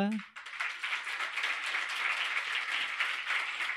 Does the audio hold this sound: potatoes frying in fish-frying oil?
no